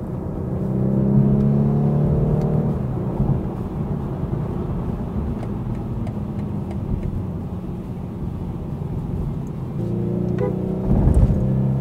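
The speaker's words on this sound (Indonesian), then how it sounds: "Jadi harus bisa di RPM yang pas untuk kita bisa nikmatin suara mesinnya waktu downshift." A BMW 430i Coupe M Sport Pro engine rises and falls in revs during downshifts, a low droning rumble heard from inside the cabin with brief blips and swells, no talking.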